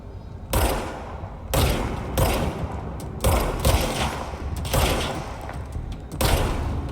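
Gunfire in the game Control, several loud close bursts of shots separated by brief pauses, with booming low-end impacts and echoing tails from each volley.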